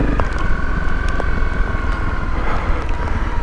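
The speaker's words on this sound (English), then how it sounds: "So we'll go second gear and just roll it down on the engine braking." A Honda CRF 250 Rally motorcycle rolls downhill in second gear on engine braking, its steady engine drone running continuously under heavy wind buffeting at the microphone.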